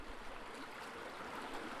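Soft, steady running water in the zoo-building game Wildlife Park 2, a faint, even stream-like flow with no talk.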